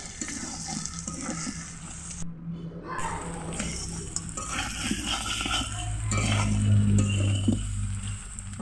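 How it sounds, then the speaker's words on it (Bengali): Kadaknath black chicken tossed with fried potatoes in a hot oiled pan, a continuous sizzle with scraping stirs against the pan, close and steady, growing slightly louder toward the end. "ভেজে রাখা আলু দিয়ে ঠিক দু মিনিটের মতো আবারও কষে নেবো"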